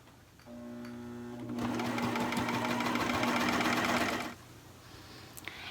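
A sewing machine whirs up and stitches sweater fabric in one steady run of about three seconds, loud and close, after a quieter mechanical hum, then stops abruptly.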